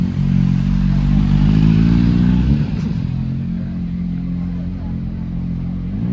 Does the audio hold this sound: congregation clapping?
no